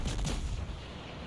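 Naval gunfire from a Svietlana cruiser in World of Warships engaging an enemy Kirov cruiser, with a loud booming salvo at the start that rolls off into a sustained low rumble.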